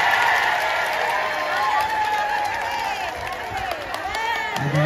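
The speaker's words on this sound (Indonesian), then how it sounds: "ini yang namanya ibu-ibu ini kalau dapat tambahan tepuk tangannya panjang" Women in the audience at a Jakarta ulama gathering applaud at length, a sustained crowd clapping with scattered cheers, while someone speaks over the noise through a loudspeaker.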